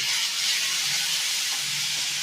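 Tomatoes tipped into hot frying aubergine mixture for baingan bharta, a continuous loud sizzling hiss steady throughout with no talking.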